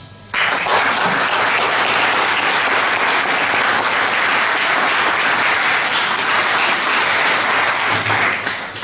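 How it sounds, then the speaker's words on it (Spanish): A large congregation at a Catholic Charismatic Renewal gathering in Los Angeles applauds in a steady, loud wall of clapping lasting about eight seconds before it tapers off. "Denle un aplauso"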